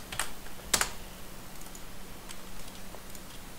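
Sparse keystrokes on a computer keyboard, a few close clicks and one brief cluster of quick taps, over a low steady hum with no talk.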